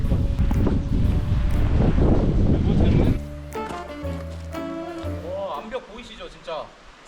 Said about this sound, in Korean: 갑자기 바람이 불어 갑자기 바람 불어